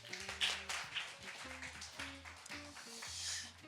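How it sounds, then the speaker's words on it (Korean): A church congregation claps in praise during a worship service, light scattered applause heard faintly under organ or keyboard tones. "하나님께 감사와 찬양의 박수 올려드리시겠습니다"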